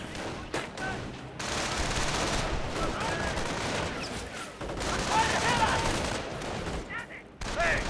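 Video game battle in Company of Heroes 1, with sustained bursts of small-arms and machine-gun fire, several soldiers shooting at once, heard at moderate volume with brief pauses between volleys.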